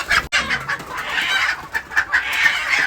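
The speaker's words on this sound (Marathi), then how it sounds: "आपल्या फार्मवर ह्या कोंबड्या जाणार आहेत" Free-range village chickens cluck in a busy flock, with short, repeated calls overlapping one another and no talking.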